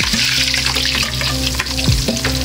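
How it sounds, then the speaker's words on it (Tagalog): Chopped garlic fries in hot oil in a pan, a steady, loud sizzle filling the whole moment with a few stirring scrapes, and no voices. "Una nga natin ilalaglag tong ahos dito sa amin"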